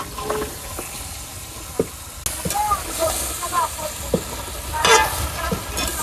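Bottle gourd pieces going into a pan of prawns fried in oil, giving a steady sizzle with scraping stirs and a few clattering knocks, close and fairly loud.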